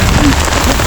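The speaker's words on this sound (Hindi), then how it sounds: "ओले गिर रहे हैं" Heavy hail falling in the open on a mountain pilgrimage route, a dense loud continuous patter and hiss of pellets striking surfaces all around.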